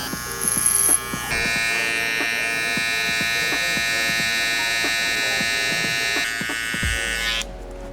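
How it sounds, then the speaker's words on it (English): Electric hair clippers fitted with a number 1 guard cut hair over a comb during a burst fade with a middle part, a steady close buzz running almost unbroken after a short start, then cutting off near the end. "Now I'm gonna go ahead and clip over comb all this excess hair over here with the number 1 guard"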